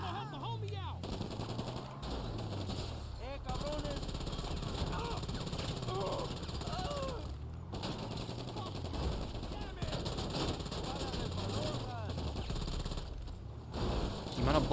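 Heavy gunfire during a GTA Online farm raid mission: steady machine-gun bursts and shots over a droning helicopter-like hum, with a player talking over much of the fighting.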